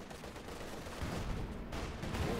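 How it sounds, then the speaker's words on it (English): Field gun barrage in the World War II strategy game Company of Heroes 2, a dense, continuous roll of distant booms and blasts with no pauses, fairly steady in loudness. "field gun barrage, the T4 lands a nice hit as well there"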